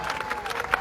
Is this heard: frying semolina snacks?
no